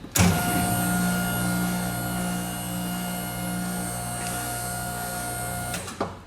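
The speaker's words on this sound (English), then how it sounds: "But I've got a pretty beefy silent piston compressor." A beefy silent piston air compressor with a silencing shroud runs steadily in a garage, giving a constant electric hum with a tonal whine that starts with a thump and cuts off near the end.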